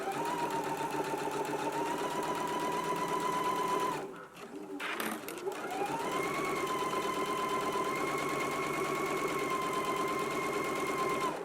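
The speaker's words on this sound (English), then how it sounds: "Let's go ahead and stitch our sleeves in place now." Sewing machine running steadily as it stitches a sleeve seam in faux fur for a McCall's M8354 garment, a loud continuous whir with a brief pause partway through before resuming.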